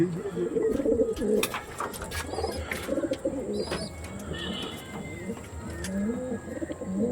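A pair of young Kalshira pigeons coo continuously nearby, layered rolling calls and chirps at a steady moderate level with no clear talk.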